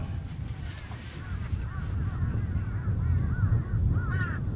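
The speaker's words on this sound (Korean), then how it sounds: "지금 까마귀 소리 많이 들리잖아요" Many crows caw at once in the distance, overlapping harsh calls over steady low rumbling background noise.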